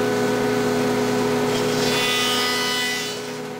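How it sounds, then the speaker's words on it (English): A jointer planing the edge of a wooden board, a loud steady whirring cutter with a brief rising swish as the board passes, then tapering off. "back at the joiner, we're going to clean up both edges until they're the exact same width"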